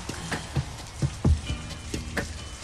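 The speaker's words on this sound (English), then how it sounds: "get out of the rain." Rain falls as a sound effect in a special mix of a song, with soft patters and occasional heavier drops over a muted musical bed.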